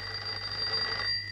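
An old telephone bell rings indoors in a steady, fairly faint trill that lasts just over a second, with no voices over it.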